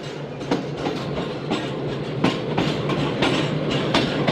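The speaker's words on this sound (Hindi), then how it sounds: "8:10 पर दोस्तों ट्रेन रवाना हुई है भावलपुर रेलवे स्टेशन से" Shalimar Express train pulling out of Bahawalpur station, a loud, steady rumble with regular clickety-clack wheel beats throughout, with no voices.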